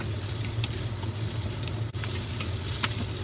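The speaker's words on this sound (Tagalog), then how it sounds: "Then ilagay yung dried fungus. Iprito ng mabilis para hindi ma-well cook yung gulay." Angel gourd and dried fungus being stir-fried in a hot pan, a loud, dense sizzle filling the whole stretch with faint clicks of the utensil, close and steady, no speech.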